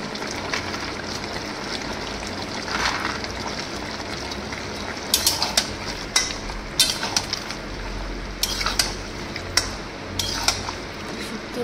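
A curry of potato and bitter gourd simmering in a pan, with a steady bubbling hiss and intermittent clinks of a utensil against the pot, close and moderately loud, with no talk.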